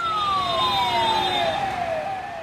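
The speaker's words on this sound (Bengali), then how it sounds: "জরুরি মুহূর্তে অসুস্থ রোগীকে হাসপাতালে পৌঁছাতে যার ভূমিকা সবচেয়ে বেশি সেটি হলো অ্যাম্বুলেন্স।" An emergency ambulance siren wails with falling pitch sweeps, close and loud over faint road rumble from passing traffic.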